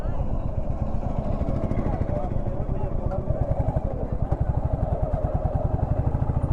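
A motorcycle on a summer ride near Konark Sun Temple in Odisha runs close by, its engine putting out a steady low rumble with rhythmic pulsing as it rolls up to park, while a person talks over it.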